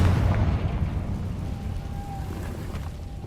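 A Confringo fire-spell explosion in Hogwarts Legacy, a deep, loud rumbling blast strongest at the start that tails off into a lingering low roar.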